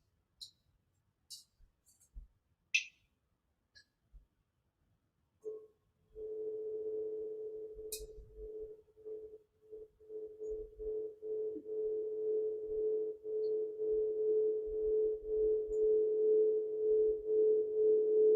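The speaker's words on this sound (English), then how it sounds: "align ourselves with the sounds of the tones of the bowls" Singing bowls ring out during an evening meditation: a few soft clicks first, then a sustained, pulsing metallic tone that swells and hangs steadily, moderately loud and alone with no talking.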